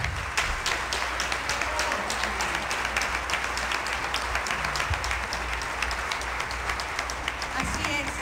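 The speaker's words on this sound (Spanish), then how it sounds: "el aplauso eufórico no se hizo esperar" Dense, continuous crowd applause fills a hall after a national music award is announced, steady and enthusiastic at moderate distance with no pauses.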